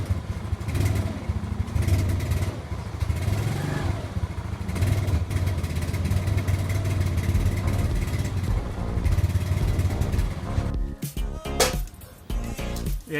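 Yamaha Mio scooter engine with a faulty carburetor running loud and close, rough and uneven with a misfiring, hesitant throttle, then sputtering in choppy bursts near the end.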